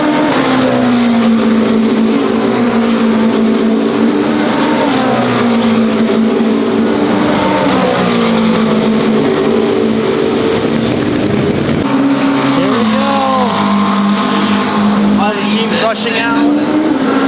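Porsche race cars roar past during a six-hour endurance race, loud engine drones rising and falling as cars approach and pass, with pitch sweeps and a brief squeal near the end over crowd and commentary noise.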